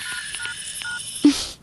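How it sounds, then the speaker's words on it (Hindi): Telephone keypad tones as a number is dialed, a quick run of separate beeps followed by one louder tone near the end, clear and close with no talking. "करो फोन, पूछो उससे वो कहाँ है। फोन करके तो देखो।"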